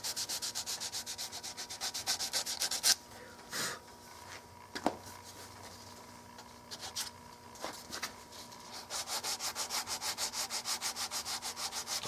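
Hand sanding across the grain of a wooden Mauser custom rifle stock, rapid rhythmic back-and-forth rasping strokes close up, broken by a few pauses and scuffs midway before the steady strokes resume.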